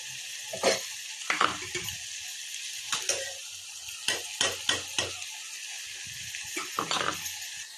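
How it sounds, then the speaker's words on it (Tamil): Ginger-garlic paste sizzling in hot oil while a spoon stirs it around a pan for a vegetable biryani, with repeated scraping strokes over a steady close frying hiss and no talk. "இஞ்சி பூண்டை சேர்த்துட்டு நல்லா மிக்ஸ் பண்ணி விடுங்க"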